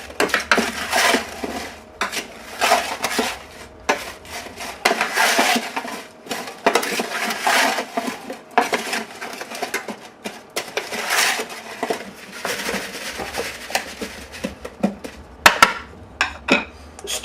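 Potatoes are tossed with a light dusting of garlic powder in a dish, giving repeated clattering and scraping bursts with irregular rhythm and short pauses, close and fairly loud, with no talk.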